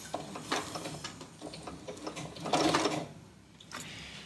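Sewing machine anchoring a few stitches on a vinyl project bag, close and clear, with quick rhythmic mechanical ticking in short bursts and a louder run in the middle.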